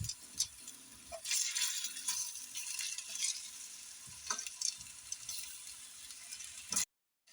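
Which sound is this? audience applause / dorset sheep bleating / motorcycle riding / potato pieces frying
potato pieces frying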